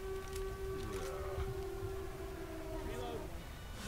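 A video game siren signalling a new wave on a custom map, a steady droning tone held throughout at a moderate level under game noise.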